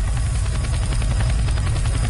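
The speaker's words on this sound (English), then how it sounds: "A chopper!" A helicopter in the zombie shooter Left 4 Dead 2 drones loudly and continuously, its heavy rotor thrum pulsing steadily throughout with no break.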